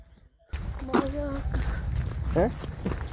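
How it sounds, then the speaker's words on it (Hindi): Horses and mules walk along a mountain path near a hill village, their hooves clip-clopping in a loose rhythm close by while people talk over them. "बड़े तरीके से लाने पड़ते हैं घोड़े खच्चर ऐसे पहाड़ों में"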